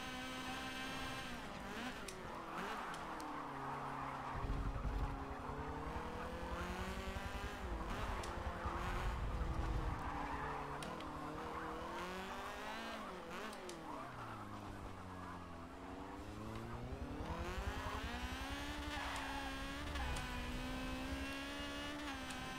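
Racing cars in Forza 7 scream through hard acceleration, engine notes rising and falling through gear changes with tire squeal, loud and close throughout.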